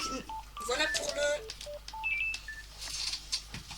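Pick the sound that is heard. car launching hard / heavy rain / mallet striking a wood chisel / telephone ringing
telephone ringing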